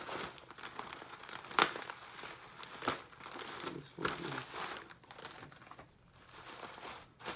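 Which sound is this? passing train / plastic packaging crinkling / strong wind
plastic packaging crinkling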